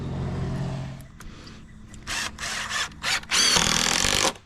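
Circular saw cutting bond timber during a mobile home front porch build; a motor hum fades early, then several short close bursts of cutting noise build into a longer loud cut near the end.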